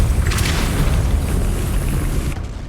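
Depulso force spell cast in the Hogwarts Legacy video game: a loud, close boom with an explosive burst near the start, then a rumbling roar that holds before cutting off.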